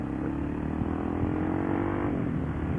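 A DR motorcycle rides along at a steady pace, its engine humming continuously up close with a slight rise in revs partway through.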